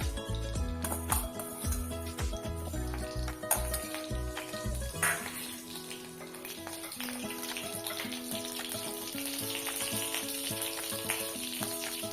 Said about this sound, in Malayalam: ഞാനിവിടെ വെളിച്ചെണ്ണയാണ് എടുക്കുന്നത് കടുകിട്ട് കൊടുക്കാം